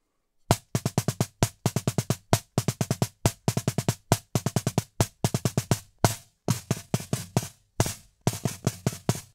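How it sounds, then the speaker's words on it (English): Paradiddle variation on a practice pad: crisp, dry stick taps in quick repeating groups with short gaps between phrases, close and alone. "we're doing the diddle onto the double, and then we're sneaking that note in between the double"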